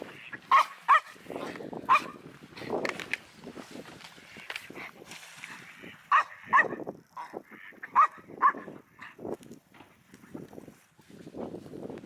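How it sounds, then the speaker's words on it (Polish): A dog barks at ducks in sharp, repeated bursts, some doubled, with quieter outdoor noise and murmuring between them. "szczeka na te wszystkie kaczki."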